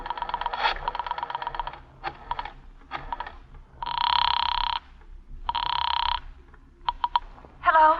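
An old telephone bell ringing in bursts, with two long loud rings in the middle and shorter rattling chirps around them, heard close and fairly clean over a quiet background.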